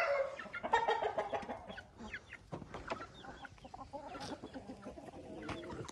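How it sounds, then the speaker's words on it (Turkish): A Legbar rooster clucks and calls repeatedly close by, with other chickens clucking around it in a busy coop. "Legbar horozumuz."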